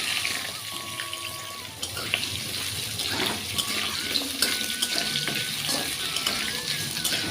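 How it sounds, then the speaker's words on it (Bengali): Cut potatoes sizzling in hot oil with black cumin seeds, a steady crackling fry with faint stirring clinks and a brief clatter as they go into the pan. "ফোড়নটি ভাজা হয়ে আসলে আমরা দিয়ে দেবো কেটে রাখা আলুগুলি"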